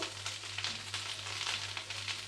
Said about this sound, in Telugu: మీడియంలో పెట్టుకొని మంచి మనకి క్రిస్పీగా వచ్చే వరకు ఫ్రై చేసుకుందాం